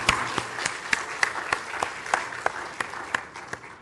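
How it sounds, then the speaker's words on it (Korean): A church congregation applauds after a prayer, with dense clapping that carries regular accented beats as the crowd claps together in rhythm, moderately loud and close. "우리 하나님께 영광의 박수 올려드리실까요?"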